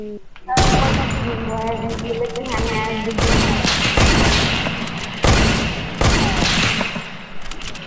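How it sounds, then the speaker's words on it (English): Rapid gunfire bursts from a PS4 video game, with several loud volleys of shots and booms over a few seconds, heard up close with game sound behind them. "I'm out of ammo. I have to reload for every gun."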